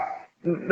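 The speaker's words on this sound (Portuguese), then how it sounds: "desculpem o cachorro do vizinho" Neighbor's dog barking in the background of a home setting, a few short barks mixed with a voice, fairly close and moderately loud.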